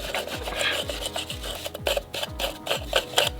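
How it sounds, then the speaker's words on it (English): Wire brush scrubbing crud off the wheel hub of a BMW M235i F22, a steady rhythmic rasping with repeated back-and-forth strokes, close and continuous with no voices. "you can use any old wire brush"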